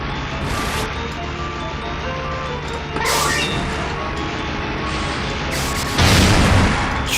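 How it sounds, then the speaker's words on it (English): Booming space-grenade blasts in a Windows XP-era shoot-em-up arcade game, loud bursts landing around three and six seconds over a dense wash of constant game effects and music. "Space grenades."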